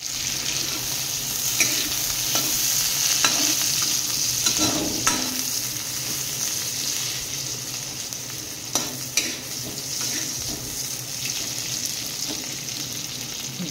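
Chopped vegetables fry in a pan with a steady loud sizzle, stirred now and then with scraping clatters and a few sharper knocks, and no talking.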